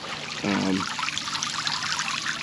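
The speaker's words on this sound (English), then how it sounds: "it's a nice little water feature." Water trickles steadily in a small garden water feature, a soft continuous splashing with a brief brighter burble near the start.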